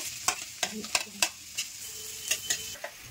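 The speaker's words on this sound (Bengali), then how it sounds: "এবার আমি এখানে একে একে রসুন কুচি দিয়ে দেব" Chopped garlic fries in butter for veg momo filling, a low steady sizzle punctuated by several distinct spoon clicks and scrapes against the pan, close and fairly quiet.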